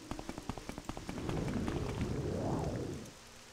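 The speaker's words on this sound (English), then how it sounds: "Though there is still rain." Steady rain falls in the video game Morrowind, a soft, even hiss that swells in and holds, with a quick run of light rhythmic footfalls at the start.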